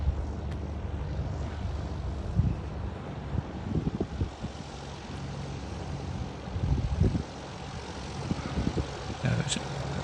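A Streak Shadow microlight aircraft taxiing in, its engine a low steady drone heard at moderate distance under wind buffeting on the microphone, with a few louder bumps and rustles.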